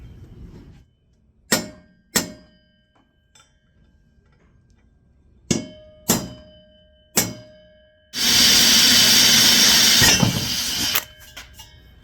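Drill press boring into walnut: several sharp knocks and taps first, then a loud steady whine lasting about three seconds that stops abruptly, followed by a few more clicks.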